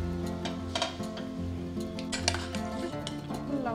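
Pieces of bottle gourd go into a pot of thickened milk for a sweet pudding, bringing clinks and scrapes of a utensil against the pot over a steady low hum, close by with no talking.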